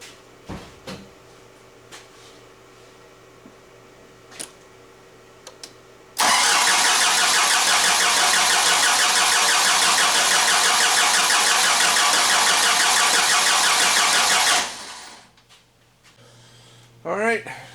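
A 4BT diesel Jeep engine with a hard cold-start problem cranks loudly and continuously for about eight seconds, then stops. Quiet clicks and knocks come before and after, and a voice is heard near the end.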